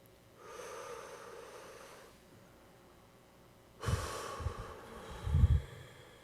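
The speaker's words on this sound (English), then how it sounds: "So now let us take a deep inhale breath and hold it in for a moment and then exhale deeply." A congregation at a Sunday service takes a deep breath together and then exhales, a soft diffuse whoosh of many breaths followed after a pause by a louder, rougher group exhale with low breathy rumbles.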